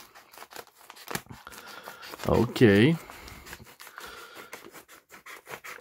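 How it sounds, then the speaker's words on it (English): Scissors snip and scrape through the packaging of a Pelikan Souverän M800 Black fountain pen with a few short crunchy cuts, close up, and a brief spoken word nearby. "I will use my scissors to carefully open it."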